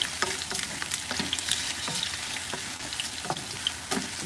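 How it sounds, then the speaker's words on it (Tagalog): Luncheon meat and potatoes frying in a pan until golden brown, a constant close sizzle and crackle broken by frequent light taps and scrapes of stirring, with no voices. "alutuin natin siya ng golden brown para masarap yung luncheon meat natin"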